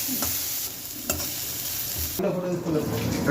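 Onion and chilli deep-fry in hot oil for a goat brain fry, a loud, dense sizzle that surges and grows harsher and stronger toward the end, with a couple of brief knocks.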